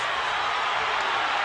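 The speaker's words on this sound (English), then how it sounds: "Crowd trying to lift their man." A boxing arena crowd roars in a steady, dense wash of cheering at the De La Hoya versus Quartey welterweight fight, sustained and loud without a break.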